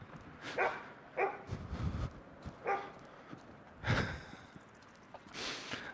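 A dog barks and huffs in several separate bursts spread across a few seconds, moderately close, with breathy snorts in between and no talking.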